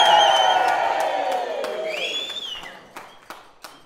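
Wedding guests cheer and whoop together after a toast, a loud crowd roar that gradually fades, with a few sharp glass clinks and claps ringing out near the end.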